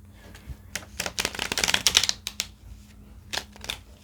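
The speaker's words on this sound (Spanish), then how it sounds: "vamos a barajar una vez más" Tarot cards are shuffled by hand in a series of crisp riffling bursts, a flurry in the middle and a couple of shorter shuffles after, close and clear with no talking.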